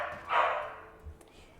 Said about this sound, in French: J'adore quand ils se mettent à aboyer en pleine vidéo, vraiment